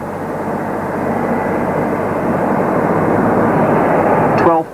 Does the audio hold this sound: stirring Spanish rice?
no